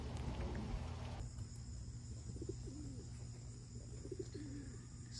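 Racing pigeons coo softly in a loft, low rolling calls repeating several times at moderate distance over a steady background hum and faint patter.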